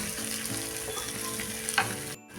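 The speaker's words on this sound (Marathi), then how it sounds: "ह्या 6-7 लसूण पाकळ्या आणि थोडं मी सुकं खोबरं घेतलेलं आहे, ते पण ह्यामध्ये चांगलं परतून घेऊया" Crushed garlic cloves and dry coconut sautéing in hot oil, a dense close sizzle with a few stirring scrapes, ending in an abrupt cut.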